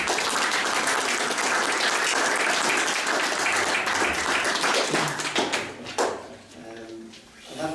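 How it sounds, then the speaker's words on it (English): An audience at an art exhibition event gives a full round of applause, dense and loud, that thins into scattered claps and fades near the end as a voice begins. "I think we should give them a round of applause."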